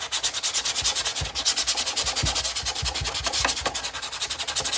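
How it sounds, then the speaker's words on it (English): Sandpaper of 120 to 200 grit roughing up a canopy surface, a steady close rasping rub in quick repeated back-and-forth strokes with no talk. "So you just take your sandpaper, 120, 200 grit, and just rough the surface up."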